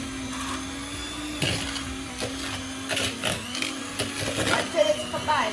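A steady electric mixer hum while creaming white and brown sugars together in a mixing bowl for chocolate chip cookies, a constant motor drone with scraping bursts, under a person talking.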